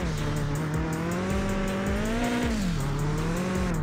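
A BMW E36 race car in the Mon Bazou driving game, its engine droning steadily with a rising and falling pitch as the handbrake pulls it into a skid, loud and continuous with no talk.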